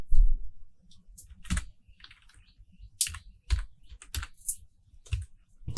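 Keys clacking on a computer keyboard while entering code for a database connection, in short irregular bursts of taps with pauses between, fairly close and clear with no talking.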